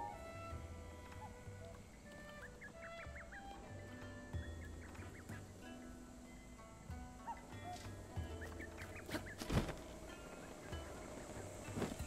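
Faint Cucco chickens cluck in short warbling bursts in the video game Breath of the Wild, scattered over a steady windy outdoor ambience with occasional soft thumps.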